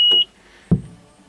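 Turning on an excavator's ignition sets off a short, high, steady warning beep lasting a fraction of a second, then a single dull clunk follows.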